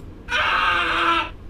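A scream sound effect played back through Master Audio's Mecanim State Sound in Unity: one loud, sustained, shrill cry of just over a second that cuts off cleanly, with no talk.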